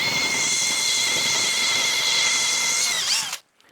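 A power drill bores stud holes into an olive wood guitar body, a loud steady high whine held for about three seconds before it winds down and stops abruptly.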